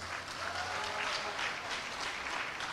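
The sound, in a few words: applause for the recipients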